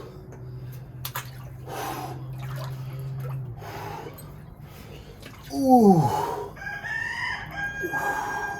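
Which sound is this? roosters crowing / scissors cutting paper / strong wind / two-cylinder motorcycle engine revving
roosters crowing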